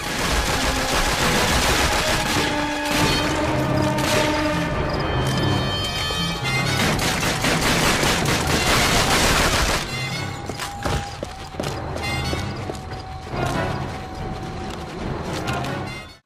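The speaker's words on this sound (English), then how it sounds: "MG42 Truppe 2004, Call of Duty Finest Hour." Sustained automatic fire from an MG42 machine gun in Call of Duty: Finest Hour, loud and continuous for about ten seconds, then easing into lighter bursts under battle noise and music.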